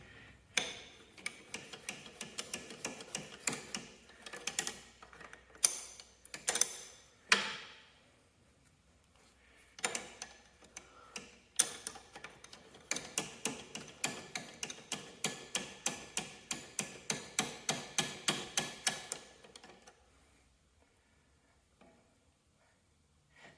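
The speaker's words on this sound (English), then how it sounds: "Use a ratchet wrench." A ratchet wrench works a bolt out of a Kubota D-600B diesel motor from a Cub Cadet 782, with rapid clicking runs in bursts, then a long steady series of regular clicks before stopping.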